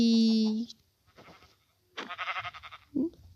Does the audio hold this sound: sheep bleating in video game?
yes